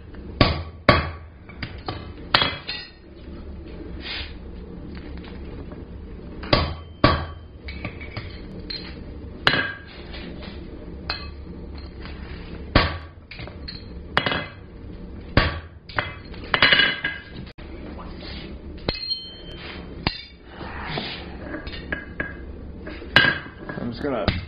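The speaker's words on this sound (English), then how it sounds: "I'm going to go ahead and start the punch from this side" Repeated hammer blows on a steel punch driven into hot forged steel while making a ball-end coat and hat hook, ringing metallic strikes coming in irregular bursts and clusters, loud and close, with brief pauses between groups of hits.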